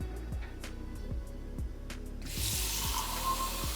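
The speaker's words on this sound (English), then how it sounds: "Hey Google, ask Delta faucet to give me 1 cup of water." Water from a Delta smart faucet starts running partway through, a steady hiss of flow into a kitchen sink, following quieter clicks and low hum at the start.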